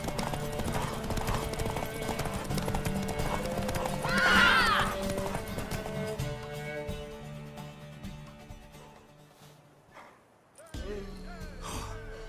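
Hooves clatter in a rapid galloping rhythm under game music from The Witcher 3, with a horse (a mare) whinnying midway before the hoofbeats fade and slow during a horse race.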